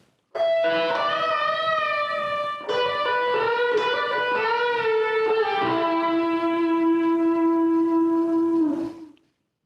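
Electric guitar plays the first half of a song's solo, stringing several melodic licks together ending in a pull-off. Notes bend and slide continuously, finishing on a long sustained tone that fades out.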